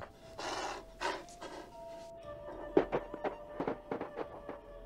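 Dog panting in the video game Nancy Drew: The White Wolf of Icicle Creek, a run of quick breathy pants and snorts at close range, loudest in rapid bursts toward the end.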